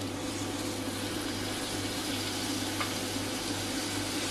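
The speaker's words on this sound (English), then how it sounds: "So we're just going to add our mixture. Stir that in." Lamb and potatoes sizzle steadily in a hot pan as a mixture is stirred through them, a continuous soft frying hiss with faint hum underneath and no talking.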